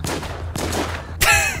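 Gunfire in the zombie survival video game Infestation: Thailand, two sharp shots in quick succession followed by a louder, ringing blast, heard alone at moderate volume.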